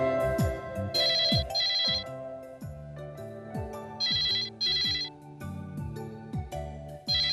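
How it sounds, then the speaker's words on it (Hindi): An electronic telephone ringtone repeats in a steady melodic pattern, ringing on and on without being picked up, with no voices. "लगता है पीके लुढ़क गया है, फोन उठाता ही नहीं है।"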